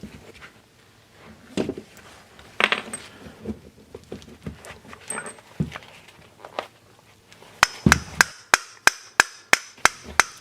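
Plastic caps being pried and knocked off an electric motor housing give scattered close knocks and clicks, then a quick run of sharp, evenly spaced taps near the end.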